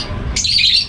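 Aviary birds let out a single loud, harsh squawk that rises sharply after a low, muffled rumble, close and brief.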